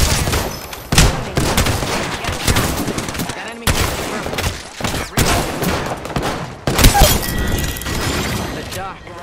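Rapid bursts of gunfire from a firefight in the Apex Legends game, with dense, loud overlapping shots and some breaking-glass-like clinks, nearly continuous across the stretch.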